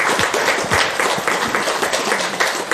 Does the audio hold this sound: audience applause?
yes